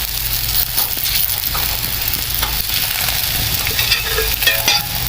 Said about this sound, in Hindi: इसके ऊपर हम वो रोटी जो हमने बेली थी वो डाल देते हैं